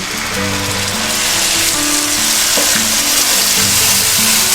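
Cumin, coriander and green chili paste is added to onions frying in a pan, making a steady, close hiss of sizzling oil over soft background music.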